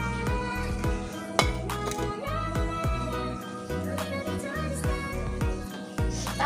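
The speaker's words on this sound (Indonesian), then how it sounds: "Masuk daun bawang sama tomatnya ya. Kita aduk sebentar aja." A utensil stirs chicken soup with scallions and tomato in a pot, giving repeated sharp metallic clinks and scrapes at an uneven rhythm over a sustained tonal background.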